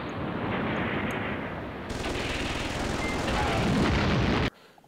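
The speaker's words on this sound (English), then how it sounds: "Airstrike." Explosions from an airstrike in the strategy war game Command Ops 2, a dense continuous rumble of blasts that swells louder toward the end before cutting off abruptly, with no talking.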